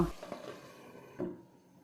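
Duck meat bhuna curry stirred in a pot: a few faint, soft scrapes and a low sizzle, quiet and close, fading toward the end.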